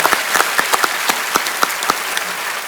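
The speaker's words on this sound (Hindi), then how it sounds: "एक बार जोरदार तालियां हो जाए।" A studio audience at a Hindi television comedy show applauds, with scattered sharp individual claps over a steady, moderately loud patter.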